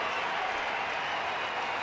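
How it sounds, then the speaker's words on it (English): Crowd in a baseball stadium cheering and applauding during the ninth inning, a dense, continuous wash of clapping and roar filling the whole short stretch. "Crowd revving it up already, Joe."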